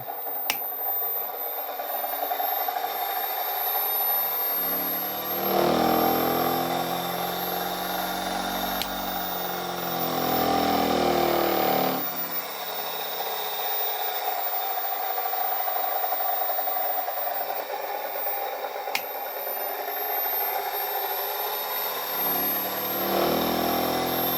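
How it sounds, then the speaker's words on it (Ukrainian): An electric motor runs in a resonance setup with a lamp load, a steady close hum with rubbing overtones whose tone shifts in a few stretches, with sharp clicks near the start and middle. "Так, Двигун працює."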